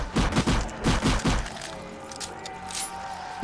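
Rapid bursts of gunfire blast at zombies in Call of Duty: World at War's Nazi Zombies co-op mode, several loud volleys in the first half before the shooting stops and a faint in-game tone lingers.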